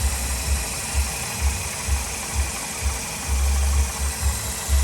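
A 2007 Nissan Sentra 2.0 engine idles after a front crankshaft seal replacement, a steady low hum with regular soft pulsing thumps, close and with no voices.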